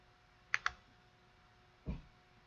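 Two quick computer mouse clicks land close together while working in auto insurance estimating software, followed about a second later by a duller single thump, all fairly quiet over low room hum.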